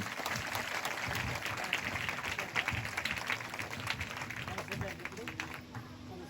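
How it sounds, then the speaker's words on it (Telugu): A church congregation at an anniversary service breaks into loud, sustained applause. Many hands clap in a dense, steady roar that fades slightly toward the end, with voices talking over it. "గట్టిగా చప్పట్లు కొడదాం."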